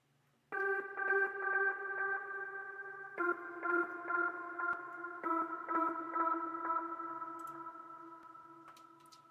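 A synthesizer plays a plucky, repeating melodic pattern through an H-delay placed after reverb, with echoing delay repeats and a reverb tail fading out at the end.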